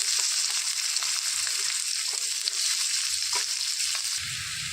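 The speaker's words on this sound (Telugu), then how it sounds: "దోరగా వేయించేసుకోవాలండి" Chopped onions and cumin seeds fry in hot oil in a pan, giving a steady, close hiss with a few faint stirring scrapes.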